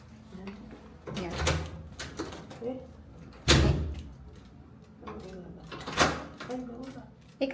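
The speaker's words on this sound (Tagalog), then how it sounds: "Eh kasi binuksan mo yung pinto." A hotel room door being opened, with several sharp clicks and knocks of the latch and handle scattered through the clip while people talk.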